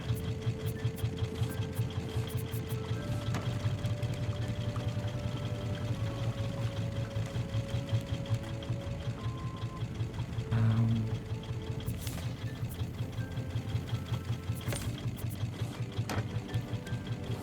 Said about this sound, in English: Turn the engines around to go the other way, so we can start going forward.